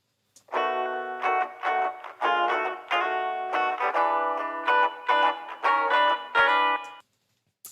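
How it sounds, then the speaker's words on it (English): Electric guitar phrase played through a room reverb, a run of notes and chords with a warm, slightly boxy ambience and short tails between notes, alone and moderately loud. "And that is the sound of a room reverb."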